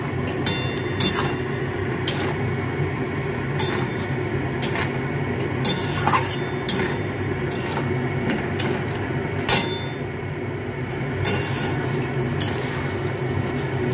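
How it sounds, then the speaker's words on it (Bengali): A spoon scrapes and stirs vegetarian dhokar dalna in a cooking pot, repeated rasping strokes in an uneven rhythm over a steady low sizzle. "এবার এটাকে ভালো করে একটু নেড়ে চেড়ে নিই।"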